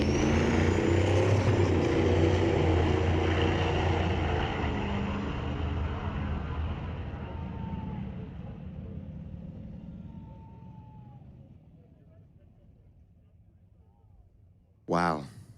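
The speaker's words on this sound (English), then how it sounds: "The Duramax on a single run." A Duramax diesel Nova drag car making a single run at a street-legal drag night, a loud roaring pass that fades steadily into the distance, ending in a sharp close burst of noise.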